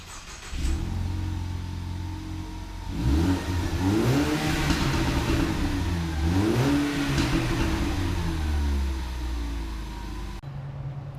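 An EcoBoost Mustang with a cheap single-pipe exhaust upgrade revs loudly and close up, its engine note climbing and falling in repeated throttle blips before settling back to a deep idle rumble.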